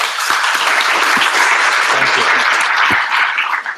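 A large audience gives sustained, dense applause to welcome a law school panel discussion, loud and steady throughout with no talking over it.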